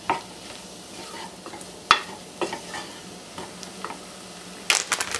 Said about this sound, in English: I'll let this cook just a few minutes to take the raw out of the flour